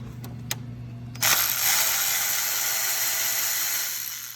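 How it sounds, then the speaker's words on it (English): A ratchet wrench loosens a 10 mm bolt holding a wiring harness bracket on top of a Honda 3.5L J35 engine: a few quick clicks, then a sustained close, steady whirring rattle with no talking. "we're going to take out this 10 millimeter bolt on top here that holds the harness"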